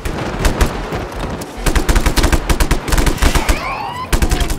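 Rapid gunfire bursts in the action video game Just Cause 3, dense automatic shots stacked with explosions and whistling effects, loud and close throughout with brief gaps.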